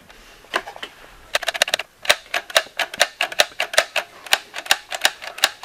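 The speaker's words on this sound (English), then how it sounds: "This is a simplex typewriter." A Simplex toy typewriter, an early and crude children's model, clacks out a steady run of sharp keystrikes, starting sparse and then hammering quickly and fairly loudly, with no voices over it.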